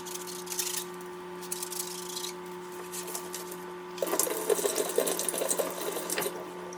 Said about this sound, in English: I'm going to clean the straw with the straw brush.